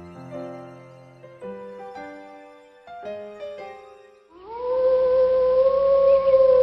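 After a passage of tonal music, a wolf howl rises in and holds a long, steady, wavering tone, loud and up close over a low rumble, with nobody speaking.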